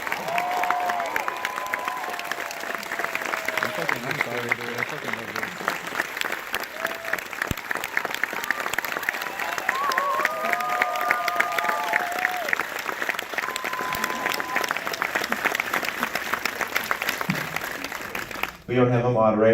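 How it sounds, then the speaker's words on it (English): A theatre audience at a post-screening Q&A for the film Eighth Grade gives loud, sustained applause with scattered cheers, clapping continuing without a break until it cuts off at the very end. "Keep the applause going"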